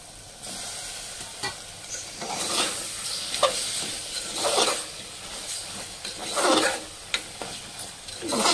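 Mutton being stirred and mixed in a hot pan for a mutton curry, a steady sizzle broken by repeated scraping and rasping strokes of a spoon against the metal, with no talking.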